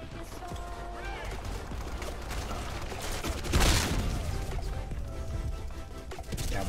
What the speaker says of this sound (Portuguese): Ah, matei um gajo com a granada.